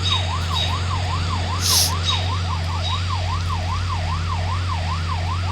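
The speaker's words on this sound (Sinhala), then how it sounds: "පොලිසිය මේ guys අපිව නවත්තන්න බැරි වුණ පොලිස් ජීප් එකකුත් එනවා." A police jeep siren wails in the Rope Hero Vice Town video game, a loud, steady up-and-down electronic tone cycling rapidly over a low engine drone.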